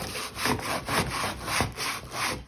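Scrubbing a black stain in a bathtub makes a rhythmic back-and-forth rasping of about five strokes, close and fairly loud, with no talking.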